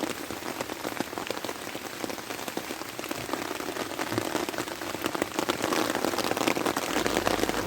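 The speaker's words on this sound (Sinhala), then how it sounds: "වහිනවා බං" Steady rain falls on surfaces outdoors in a village, a dense continuous patter with scattered drops that grows slightly louder toward the end, with no talking.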